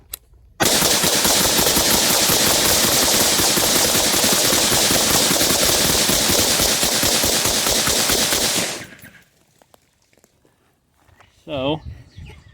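A full magazine of 5.56 rifle fire is dumped at a ballistic helmet in one loud, unbroken rapid-fire burst lasting about eight seconds, followed by quiet and a brief voice near the end.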